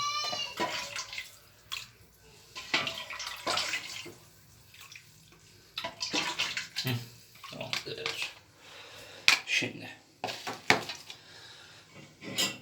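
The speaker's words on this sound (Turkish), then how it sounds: "Etin suyunu koyacağız." Meat broth is poured and stirred into yogurt for a Turkish tongue soup, giving a running liquid splash with spoon and pot clatter. The sounds come in bursts, and people talk over them throughout.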